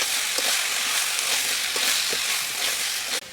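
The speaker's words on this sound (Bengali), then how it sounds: "সবজি কষতে কষতে অল্প সর্ষে তেল দিয়ে দিলাম" Vegetables sautéing in mustard oil for an egg curry, giving a loud, steady sizzle and crackle with occasional soft stirring clicks throughout, ending in an abrupt change; no talking.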